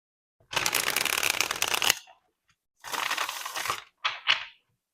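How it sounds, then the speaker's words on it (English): A tarot deck is shuffled close up in three bursts of dense riffling card noise: a long one, a shorter second, then two quick flicks, with quiet gaps between them. "I think it's the best this deck shuffled."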